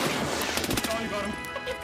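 A grenade goes off in the Escape from Tarkov shooter game: one loud, sharp blasting crash over a steady bed of game noise, with voices talking nearby.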